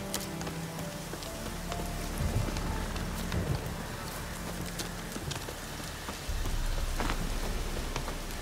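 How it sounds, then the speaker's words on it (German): Stormy weather in The Witcher 3: steady rain hisses on surfaces throughout, with a low rumble that fits distant thunder and clopping hoofbeats from a horse, moderately quiet and with no speech. "Ein Sturm, verdammt."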